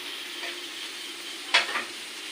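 Food fries with a steady hiss in a pan at close range, and a single sharp scrape of a spatula stirring stands out near the end.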